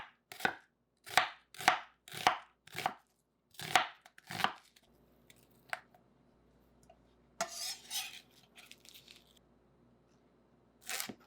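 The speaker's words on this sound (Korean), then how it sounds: "양파는 슬라이스 해주자." A knife chops rhythmically on a cutting board while slicing an onion, about eight crisp strokes in quick succession, followed by softer scattered slicing and scraping sounds.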